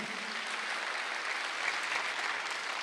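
A church congregation claps together during a Sunday worship sermon, a soft, steady wash of applause heard from some distance, with no talking over it.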